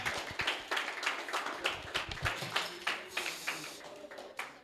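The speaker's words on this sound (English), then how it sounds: "Let's give her a round of applause" Irregular claps and taps from a seminar audience at a high school educational event, moderately loud with sharp uneven bursts rather than full sustained applause.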